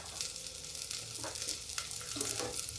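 Onion fries in hot oil with cumin and fennel seeds, a soft, steady sizzle with occasional stirring scrapes, fairly quiet and close, with no talk over it.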